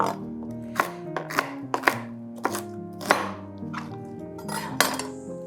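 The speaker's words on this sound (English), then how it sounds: "I'm just gonna chunk up my carrots" A knife chopping carrots into chunks on a board: a handful of sharp, irregular chops close by, each ringing briefly, with no talking.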